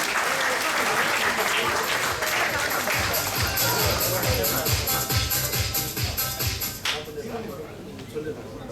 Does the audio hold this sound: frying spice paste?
no